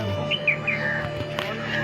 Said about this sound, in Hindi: और आप लोगों को कौवा का आवाज़ तो सुनाई दे ही रहा होगा।